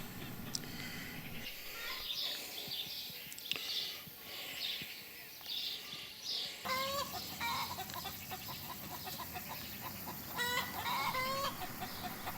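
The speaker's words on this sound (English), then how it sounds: "Nice to see also hens running free range." Free-range hens cluck and chatter near a rural railway track among grapevines in the Aegean countryside, steady and continuous over a low background rumble, with bursts of louder clucking toward the end.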